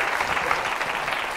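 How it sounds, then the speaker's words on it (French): A television game-show studio audience applauding, a dense, even burst of clapping that is close and loud throughout the short moment. "Je vais demander au public de vous applaudir"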